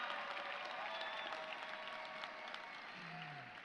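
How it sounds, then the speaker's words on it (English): Commencement audience at a university ceremony cheering and applauding, a steady dense wash of clapping with scattered cheers sustained throughout. "Yeah, that deserves a cheer."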